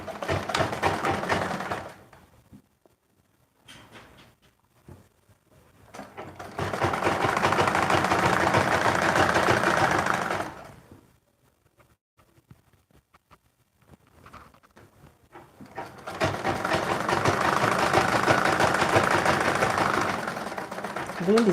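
A sewing machine stitches a folded shirt hem on a women's shirt, the hem turned half an inch and then one inch. It runs in three close, steady bursts of whirring with quiet pauses between them.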